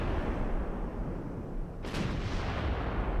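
Heavy battleship guns fire in the naval warfare game Ultimate Admiral Dreadnoughts, a single loud boom rising over a constant low rumble of ocean and engine noise.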